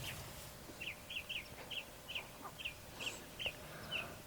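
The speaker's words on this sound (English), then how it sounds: "All you can hear is like birds chirping" Small birds chirping in woodland, a run of about a dozen short, evenly spaced high chirps repeating every few tenths of a second over faint background hush, moderately distant and quiet.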